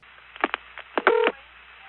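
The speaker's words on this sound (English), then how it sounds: "It makes that short pulsing sequence and dumps you into a ringing operator trunk." A short burst of telephone multifrequency pulsing tones sounds when calling inward on an NX1 tandem long-distance switch, a quick run of beeps and clicks heard faint over a low line hum.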